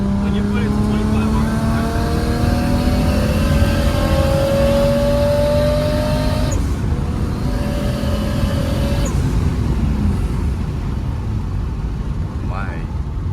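A Lexus SC400 with a manual swap revs its engine, the pitch climbing and falling in repeated sweeps, loud and close, while people talk over it.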